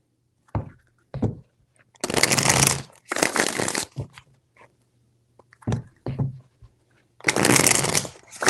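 Tarot cards shuffled up close, short flicks alternating with three long, loud riffling bursts, separated by brief pauses. No voices.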